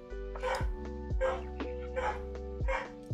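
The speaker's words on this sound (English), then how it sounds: "now you can hear my dog serenading in the background" A pet dog barking and yipping in a room, several separate barks in an irregular rhythm at moderate distance, with a steady background hum and music.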